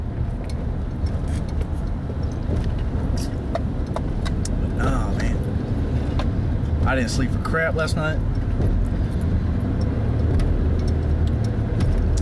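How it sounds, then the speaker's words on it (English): Steady road traffic and engine rumble heard from inside a moving car, a continuous low drone under someone talking close by, with brief jangles and clicks from the cabin. "But damn this traffic."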